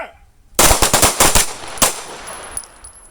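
Pistol gunfire on a shooting range during combat accuracy drills: a loud burst of about six rapid shots fired close together, then a single later shot, with the echoes fading into quiet afterward.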